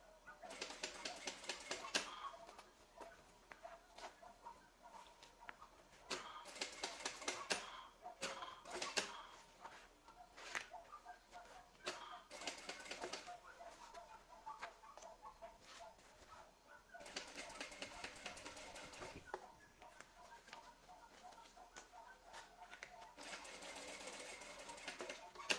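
A sewing machine stitches a zipper and bias binding in several separate bursts of rapid, whirring needle clatter, each a few seconds long, broken by short quiet pauses. The sound is close and clear, with no talking.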